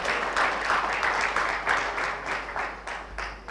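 An audience at a talk on GST applauds loudly and steadily, a dense wash of clapping that fades slightly toward the end.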